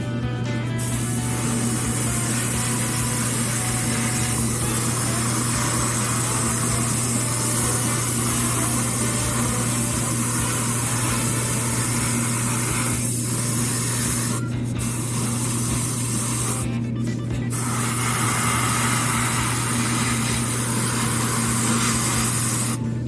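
An airbrush sprays paint onto the body of a 1/12 Tamiya Lola T-70 Mk.3 plastic model car, a steady close hiss with a constant compressor hum beneath and a few brief pauses.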